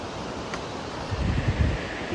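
Clear river water flows downstream from a waterfall on the Annapurna base camp trek, a steady rushing wash with a soft surge midway.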